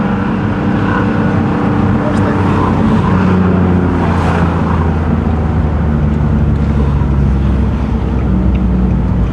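Single-turbo Nissan 370Z Nismo engine droning steadily while driving in one gear, a loud, constant low engine hum with road noise from inside the car, and faint voices under it.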